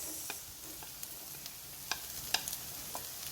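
Garlic and onion sautéing in a pan for Pinoy-style spaghetti sauce, with a low steady sizzle and a scattering of light spatula taps and scrapes, quiet and without speech.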